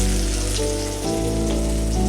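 Onion frying in hot oil for a bottle gourd and chickpea dish gives a continuous crackling sizzle, dense and close, with a low hum running beneath.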